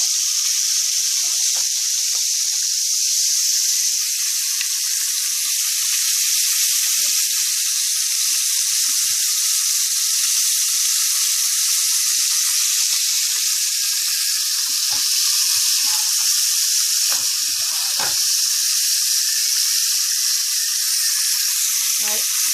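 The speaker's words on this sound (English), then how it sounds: "So the steak should cook very quick because it's on a high heat." Steak searing in a pan over high heat, giving a loud, steady, continuous sizzle and hiss throughout with faint crackles scattered beneath.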